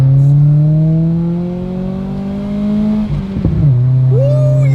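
An Acura RSX base engine with an HKS Hi-Power aftermarket exhaust holds a deep, droning rev, briefly dips and stutters, then pulls away loudly with a throaty, rising exhaust note.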